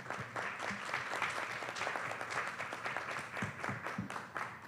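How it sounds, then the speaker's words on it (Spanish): Steady audience applause at a panel colloquium on racial profiling in Mexico City, a dense wash of many hands clapping at moderate, fairly distant level, sustained evenly throughout with no talk over it. "Un fuerte aplauso, por favor."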